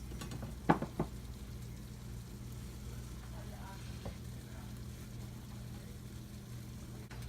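Eggs with added cheese frying in a pan give a steady, faint sizzle throughout, with a couple of brief clatters near the start.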